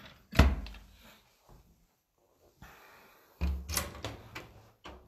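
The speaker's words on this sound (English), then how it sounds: "Drop doors." Drop doors on an antique cabinet are worked by hand, giving two solid wooden thunks with light rattles roughly three seconds apart, with quiet handling noise between.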